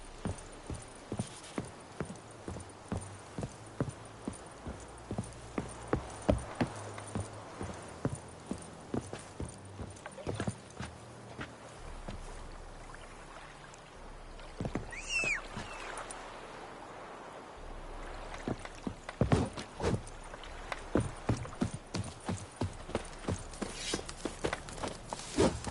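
Roach, a horse in The Witcher 3, moves at a steady clip-clop of hooves throughout, the regular beats briefly broken midway, then resuming at a quicker pace near the end with low game ambience underneath.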